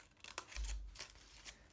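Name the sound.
cutting with plain scissors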